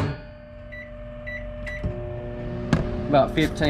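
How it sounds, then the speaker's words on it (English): A microwave oven heating fishing bait runs with a steady low hum and faint tones, broken by a couple of clicks, while someone talks over it. "hit it in the microwave for about 15"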